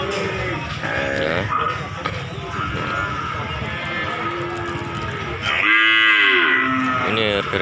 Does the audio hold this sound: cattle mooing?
yes